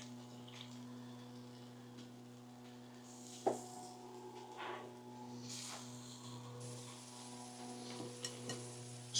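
A surf and turf taco mixture sizzles on a griddle over tortillas and cheese, a soft hiss under a steady hum, broken by a few spatula scrapes and clanks.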